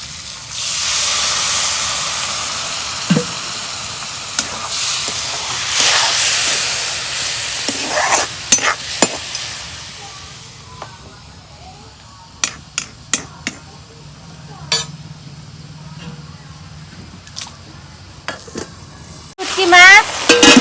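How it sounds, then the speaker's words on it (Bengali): Dried fish cooking in a pan after a splash of water gives a hissing, steamy sizzle that gradually dies down, broken by sharp utensil taps and knocks, with a voice speaking at times. "শুটকি মাছ কষানো পানি অল্প পানি দিয়ে দিই।"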